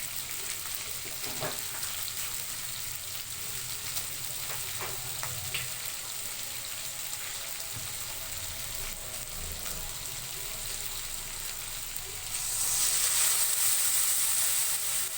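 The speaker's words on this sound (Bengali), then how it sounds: "এর মধ্যে আমি 2 কাপ জল দিয়ে দেবো।" Soya chunks curry fries and bubbles in a pan with a steady sizzle and a few stirring clunks, then two cups of water are poured in and a louder, brighter hiss rises near the end.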